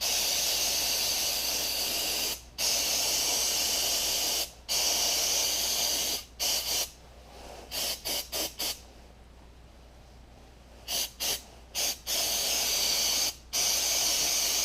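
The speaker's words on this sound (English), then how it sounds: "start hitting the outside with some carb cleaner," Carb cleaner sprays onto the outside of a Honda lawn mower carburetor on a bench in loud, close hissing bursts of varying length, some long blasts and a run of short quick spritzes.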